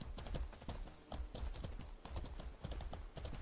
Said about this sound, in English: I literally heard a fucking horse galloping behind me.